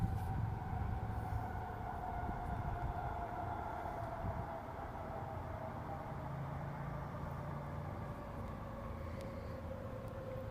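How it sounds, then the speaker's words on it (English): A train rolls past at a steady distance, a continuous low rumble with a sustained tonal whine held throughout, fairly even in loudness and with no voices over it. "When the train goes by"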